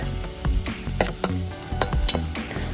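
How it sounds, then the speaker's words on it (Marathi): Chopped onion sizzles and crackles briskly in hot oil, stirred with a few scraping pops, close and continuous with no talking. "कांद्याला गोल्डन ब्राऊन कलर येईपर्यंत परतून घेत आहे।"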